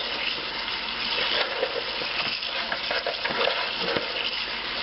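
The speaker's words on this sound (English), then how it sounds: "I just do it under the sink with warm water" Warm tap water runs steadily into a sink over honeycomb wax being washed by hand, a constant rushing gush with small splashes and shifting spatter as the comb moves under the stream.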